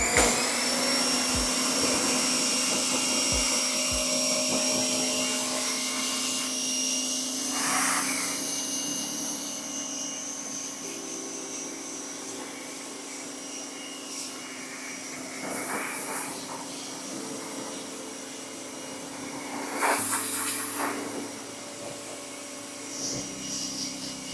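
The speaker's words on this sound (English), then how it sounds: "now we're just gonna hit it with the pressure washer" A pressure washer sprays down a car engine bay as a steady, loud hissing roar that holds for the whole stretch, with short bursts where the spray shifts and a few faint knocks near the start.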